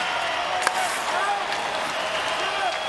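Hockey crowd in an arena applauding Team Canada near the end of the third period of an under-18 game against Sweden, a steady dense roar of clapping and cheering with no break.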